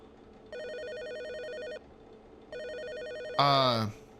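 A telephone rings twice in the Swing Shift at Farley's video game, two even trilling bursts followed by a short rising electronic tone, clear and close over a low background.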